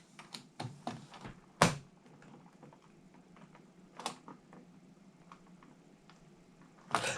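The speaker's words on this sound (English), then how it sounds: "Let's have a look at getting this keycap off." Plastic clicks and taps from prying at a keycap on a Toshiba MSX computer keyboard, a handful of close, sharp ticks spread unevenly over several quiet seconds with no talking.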